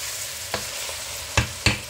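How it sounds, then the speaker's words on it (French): Oxtail beef and white cabbage stirred together in a pot, a soft low sizzle broken by a few sharp scraping clacks of the spoon, quiet and close, no voices. "Maintenant, je vais mélanger la viande et les choux comme ça."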